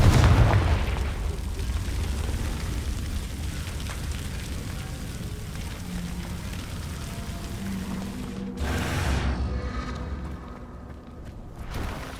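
A Confringo fire spell explodes in the PlayStation 5 game Hogwarts Legacy, giving a string of loud booming blasts and crackling bursts, with one sharp, heavy explosion standing out near the end.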